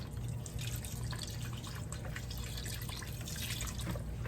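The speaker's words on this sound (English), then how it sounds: "Now we're gonna add the other cup of beef broth." Beef broth is poured into a stew pot, a continuous trickling, splashing liquid stream with faint drips, close and steady, without speech.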